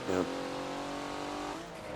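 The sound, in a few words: Porsche race car engine in Forza video game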